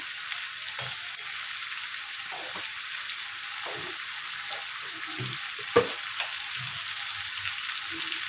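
Green chili frying in hot oil as the base for a fish curry with taro, a steady close crackling sizzle with faint scattered pops and light stirring, no voices.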